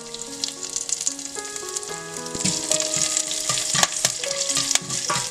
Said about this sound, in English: Once the oil is hot, add mustard seeds, curry leaves,